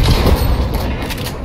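Gunfire in Fortnite rattles out in a dense, loud burst of overlapping shots and booms, continuous across the brief moment with no pause.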